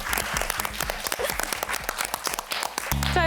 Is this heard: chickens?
no